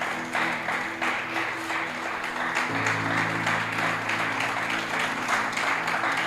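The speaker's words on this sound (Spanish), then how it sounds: "¿Alguien le puede dar un aplauso al Señor en esta noche?" Church congregation clapping at an evening service, a dense, continuous wall of applause over sustained tones from instruments or organ, holding steady throughout.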